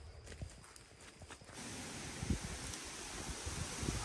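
A cow walking on a rural homestead, its hooves clopping in a few distinct, irregular steps close by, with rustling and a light wind in the background.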